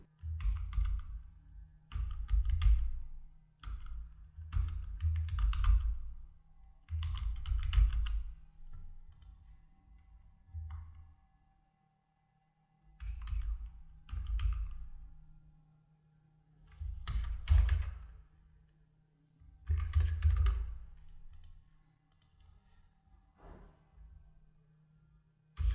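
Bank details are entered on a computer keyboard in bursts of close, clicky key taps separated by short pauses, alone without speech.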